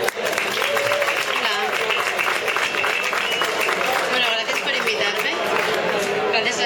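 An audience applauds a presenter at a PechaKucha talk event. The clapping is dense and sustained throughout, mixed with crowd chatter and voices.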